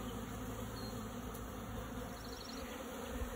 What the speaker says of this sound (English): Usually swarm colonies are really, really active.